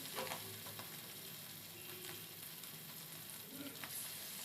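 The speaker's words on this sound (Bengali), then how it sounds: "তেলটা আমার গরম হয়েছে এটা সাদা তেলেই রান্না হচ্ছে মানে সয়াবিন তেল মাছগুলো এখন দিয়ে দিচ্ছি" Fish frying in hot soybean oil makes a quiet, steady sizzle punctuated by a few scraping stirs and small clatters, heard close up and without talk.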